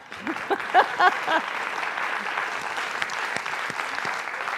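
Audience applause at a faith gathering, steady crowd clapping that builds after a few brief voices at the start and then carries on evenly.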